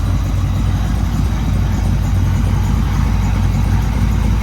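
A 1968 Camaro engine idles through a 2.5-inch fully chambered exhaust with no mufflers, a loud, steady low rumble with a rough, throbbing texture running without a break throughout.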